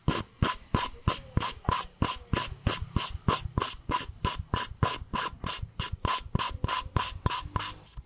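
Engine valves being hand-lapped with coarse grinding compound during an engine rebuild. A steady, fast rhythm of gritty rasping strokes, about three per second, sounds up close and alone.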